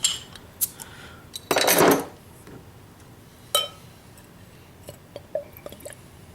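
A New Holland Pilgrim's Dole beer bottle cap pops with a sharp hiss, then liquid glugs and pours briefly into a glass, followed by light clinks and drips of glass nearby.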